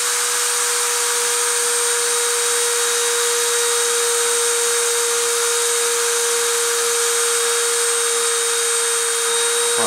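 A machine spindle spins at around 30,000 RPM for deposition work, giving a loud, steady high-pitched whine with a constant tonal hum that holds unchanged throughout, with no voices.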